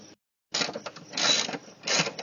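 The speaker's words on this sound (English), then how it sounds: "Now we'll remove these bolts. So these were 15mm." Bolts of 15 mm coming off a Saturn S Series engine during an idler pulley replacement produce bursts of close, metallic ratcheting and rattling, with a short gap near the start and no talking.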